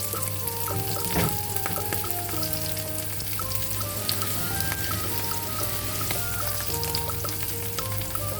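Taro frying in hot oil in a home kitchen, a continuous close sizzle with crackling pops and occasional stirring scrapes throughout, no voices.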